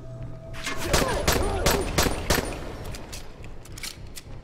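Pistol gunfire in the video game Dying Light, several sharp shots fired in quick succession over roughly two seconds, with a faint voice underneath.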